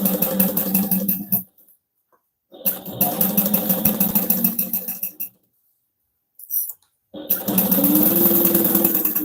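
A sewing machine stitches a zipper into a tote bag in three loud, steady runs of rapid mechanical whirring. It stops briefly between runs, with a faint click in one gap.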